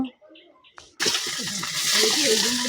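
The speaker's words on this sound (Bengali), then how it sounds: "এদিকে আমি ডিম একটা করে মানে ভাজতে আছি।" Eggs frying one at a time in a home kitchen pan, a steady close sizzle starting abruptly after a second of quiet with faint clinks, continuing loudly to the end.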